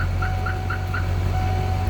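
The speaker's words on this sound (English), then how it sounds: "I don't know why that alarm keeps going off." A 1998 Hummer H1 hard top's car alarm sounds nearby in a rapid, regular series of short beeps over a low idling engine rumble.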